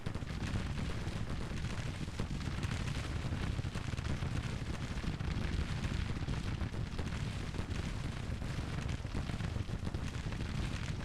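Massed cannon and rifle fire in the Civil War strategy game Grand Tactician, a dense continuous roar of overlapping shots and booms with no pauses.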